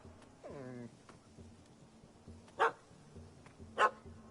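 A puppy in The Witcher 3 gives a short whine, then two sharp, separate barks about a second apart, over a quiet game backdrop with a low hum.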